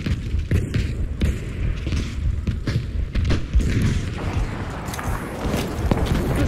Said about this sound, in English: We need an artillery barrage.